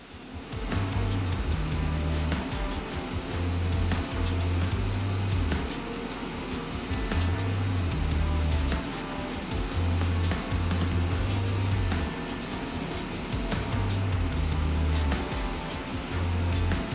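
A spray gun lays paint and clear coat onto a custom guitar body in a continuous loud hiss, with rhythmic low mechanical pulsing from a compressor underneath.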